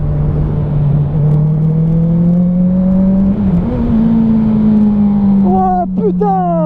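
Honda CB motorcycle engine revving hard during a wheelie, a loud steady drone that climbs gradually in pitch, dips briefly and rises again, with wind rush throughout and a short burst of quick rising tones near the end.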